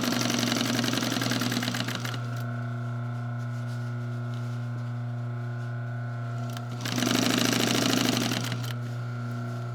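Sewing machine stitching slipcover fabric for a wing chair, two bursts of rapid motor-driven stitching, one at the start and one near the end, with a steady low hum between them.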